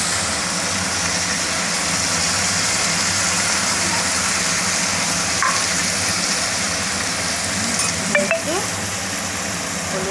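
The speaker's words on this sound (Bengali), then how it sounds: "এখন লাউটা দিয়ে দেবো।" Bottle gourd added to already fried shrimp sizzles and hisses steadily in a hot pan for lau chingri. The frying noise is continuous and fairly loud, with a couple of faint clinks near the end.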